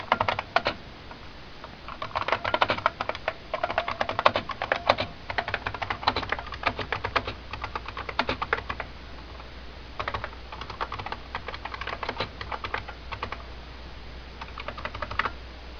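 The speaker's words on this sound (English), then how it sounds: "And now I can type on this keyboard just like a normal keyboard." Clicky Bluetooth keyboard being typed on, a steady run of crisp key clicks in bursts with short pauses, close and fairly loud with no talking.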